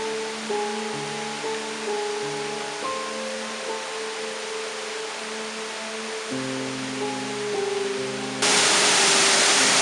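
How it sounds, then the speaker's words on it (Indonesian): The Batu Putu waterfall pours as a steady, broad hiss of falling water beneath sustained melodic background music, growing louder and harsher near the end. "sekarang gua udah sampai di air terjun Batu Putu"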